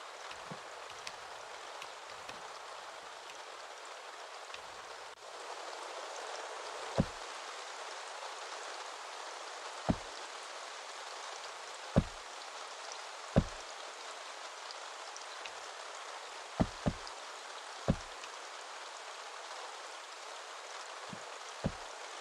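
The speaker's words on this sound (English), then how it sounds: "the rain in Staxel is absolutely," Steady rain falls in the video game Staxel, a constant soft hiss of downpour with scattered louder drip and splash hits standing out through the wash, no talking.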